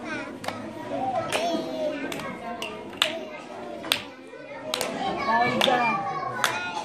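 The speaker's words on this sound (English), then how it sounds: "clap hands for Angel" Schoolchildren in a classroom clapping for a classmate, a few scattered, uneven claps rising over the loud chatter of kids' voices throughout.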